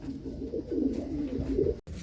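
Young pigeons being fitted with leg bands coo steadily and close up, low soft rolling calls continuing for about two seconds before a brief cut.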